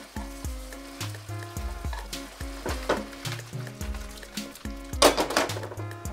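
Chicken and mushrooms frying in a pan for chicken salpicao, a steady close sizzle broken by repeated scraping stirs, with music playing over it.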